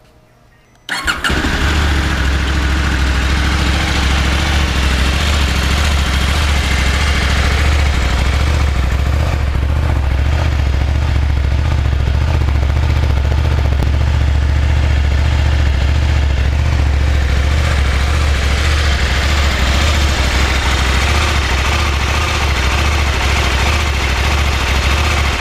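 A KTM 790 Adventure motorcycle engine fires up and settles into a steady, close idle. The low parallel-twin rumble runs unbroken for about twenty-five seconds, with nobody talking.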